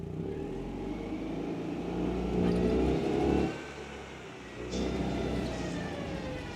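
A Citroen 2CV's engine revs loudly while the car is pushed through snow, the revving swelling twice with a brief drop to a steady idle between.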